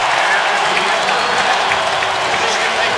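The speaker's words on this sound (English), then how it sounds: "as you can hear the crowd, they're loving what the Spartans are doing to the Wolverines so far" A stadium crowd at a Michigan State versus Michigan football game roars in a steady, dense wash of cheering and applause that carries through the whole stretch.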